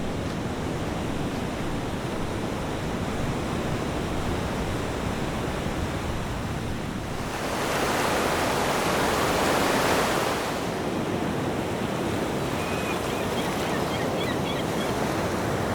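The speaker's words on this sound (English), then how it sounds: "Here is where the mouth of the Pajaro River flows out into the Pacific Ocean." Pacific Ocean surf at the mouth of the Pajaro River, a steady broad roar of breaking waves that swells louder midway through, with some wind buffeting the microphone.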